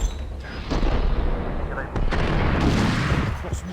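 A red barrel blows up in the video game Max Payne, amid booming gunfire and explosive bursts that crowd the scene. A voice talks over the chaotic, dense rumble.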